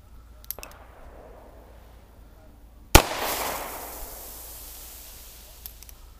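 A single sharp gunshot from a 3-inch American Derringer chambered in .45LC/.410 cracks out once in a quiet outdoor setting, followed by a brief fading echo.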